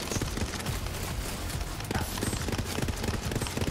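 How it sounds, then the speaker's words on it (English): Barrage legendary gun in Borderlands 3 firing in burst mode, a dense run of rapid gunfire bursts with impacts, loud and continuous throughout with game effects layered beneath. "this gun comes only in a burst fire mode"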